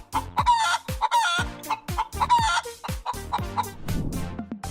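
A nearby chicken clucks repeatedly in uneven bursts, with a rougher, scratchier squawk near the end, and no voices are heard.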